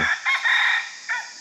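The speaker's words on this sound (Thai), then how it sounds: "ก็อาจจะได้ยินเสียงไก่ขันตอนกลางคืนนะ" A rooster crows at night at a campground at Phu Toei National Park: a close, fairly loud crow in a few drawn-out bursts, heard alone.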